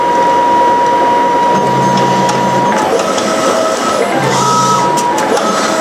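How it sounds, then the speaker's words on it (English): A Mimaki JV100 wide-format inkjet printer runs a nozzle check test pattern, giving a loud, steady mechanical whir with a thin constant tone and two recurring low hums as the print head carriage sweeps back and forth, with no voices. "So the printer performs one of the test pattern for the printer operator"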